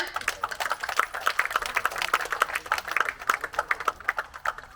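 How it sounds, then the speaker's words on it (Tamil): Audience applause at a church foundation-stone ceremony honoring pastors, a run of fairly sparse, uneven hand claps, moderately close and rhythmically irregular, with no speech over it. "எல்லாம் கைத்தட்டுங்க"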